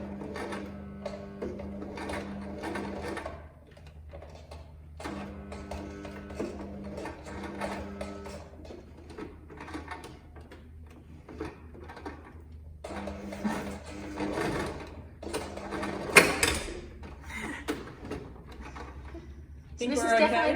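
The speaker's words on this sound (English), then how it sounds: "we're sewing through a lot of layers through the hood darts and the shoulder seams all together" A sewing machine stitches through thick layers of a cape where the hood darts and shoulder seams join, running in bursts of rapid mechanical whirring with pauses, while a person talks throughout.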